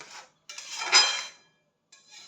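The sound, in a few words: stirring pumpkin chutney in a pan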